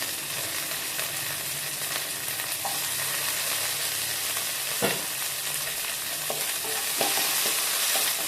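Curry leaves, garlic, green chilli and shallots fry in hot oil for a kootu tempering, giving a steady, loud sizzle throughout with occasional spoon scrapes and a sharp crackle near the middle, with no voices.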